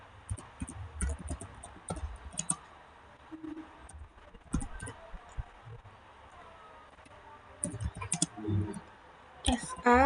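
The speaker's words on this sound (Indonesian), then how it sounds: "Kita akan ketikkan" Sparse clicks of typing on a computer keyboard, entering network switch commands during a CCNA VLAN and trunking lesson, come in scattered bursts under faint background noise and low room sound.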